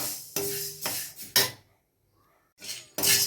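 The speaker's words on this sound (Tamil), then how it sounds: "இப்போ மூக்குக்கடலை வறுத்துட்ருக்கேன்" Chickpeas dry-roasting in a pan for sambar powder, stirred in several scraping, rattling bursts with a short quiet gap in the middle, close and moderately loud.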